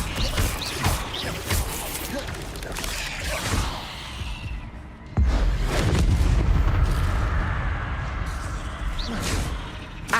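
In the video game Hogwarts Legacy, an Incendio fire spell is cast repeatedly during combat, with whooshing fiery bursts and heavy booming impacts layered over continuous game noise and music.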